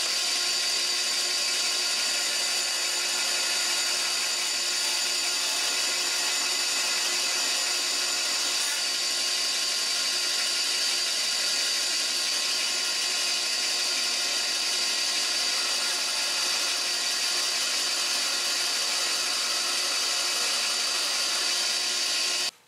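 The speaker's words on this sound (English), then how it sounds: "I think I'm going to use my bandsaw and just get as close to the line as I possibly can" A bandsaw rough-cuts wooden tenons close to the line. Its steady, bright machine whine runs continuously and loud for over twenty seconds, with no voices and no pauses.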